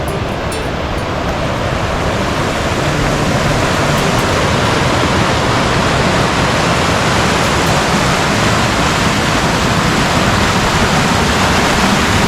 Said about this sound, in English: I love this creek.